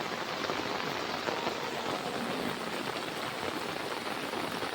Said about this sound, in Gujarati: એ મિત્રો જો જબરદસ્ત વરસાદ છે અમારા